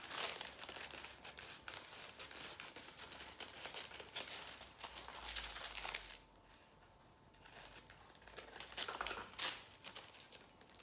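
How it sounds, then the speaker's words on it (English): Scissors cut through a paper sewing pattern for a dress, producing continuous close crinkling and crisp snipping rustles with a brief quieter pause midway, then more cutting. "So now we can cut out on that new line."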